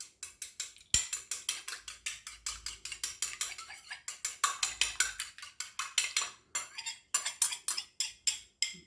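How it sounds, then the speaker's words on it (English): Eggs are whisked in a bowl for savoury short crust pastry. A utensil clicks against the bowl in a quick, steady run of crisp strikes, close and clear, with a couple of brief pauses. "So we'll just give the eggs a wee mix up."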